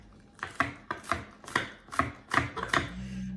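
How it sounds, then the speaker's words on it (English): A knife chops green onions on a cutting board with a rocking motion, about eight crisp, evenly spaced cuts, close and clear with no talking. "Now I want you to notice how I'm cutting those."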